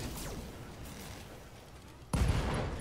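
Mech weapons fire at an enemy in the video game Roguetech: a sweeping burst fades over the first seconds, then a loud, sudden volley of gunfire-like blasts hits near the end.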